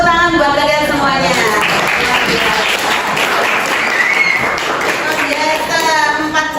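A class group is applauded in an Indonesian classroom, loud close clapping from many people with voices talking over it at the start and end.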